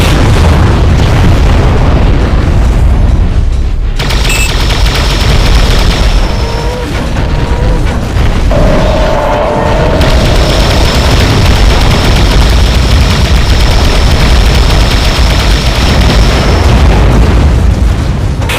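Explosions destroying a target in the underwater video game AquaNox, a dense, loud rumbling boom that stays heavy throughout with brief pulses and tones layered on top, no talking.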